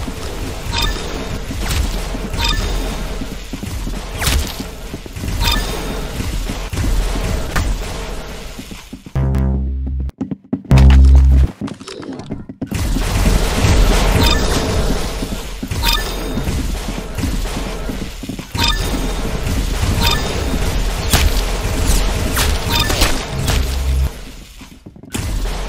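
Rapid railgun fire and impacts from the Roblox game Arsenal, a dense loud barrage of shots with crashes and bursts running almost continuously, broken by a brief deep thump and a near-silent gap midway.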